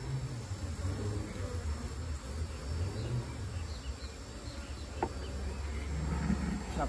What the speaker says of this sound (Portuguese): Chacoalhar dentro da caixinha é muita abelha, certo? Muita abelha mesmo.